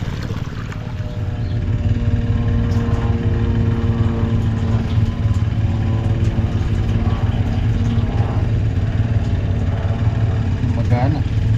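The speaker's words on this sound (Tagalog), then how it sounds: "Naka minor lang din yung makina natin." A small irrigation pump engine on a vegetable farm runs at low throttle, a steady close mechanical drone with a low hum that holds throughout, with someone speaking over it.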